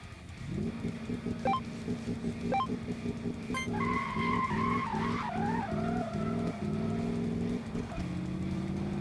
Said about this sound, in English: Lots of tire spin there.